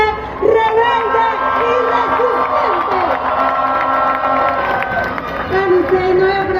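A large crowd at a political rally in Cali, Colombia cheers and shouts loudly and continuously, with whistles and horns mixed into the roar.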